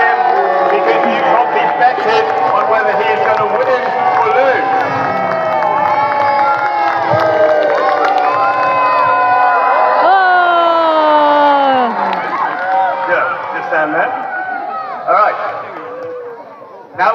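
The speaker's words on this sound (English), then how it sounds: "You might be cheering him, you might be booing him" A large crowd cheers, whoops and shouts at a Roman gladiator show, a loud and continuous roar with children's voices and rising yells, fading slightly near the end.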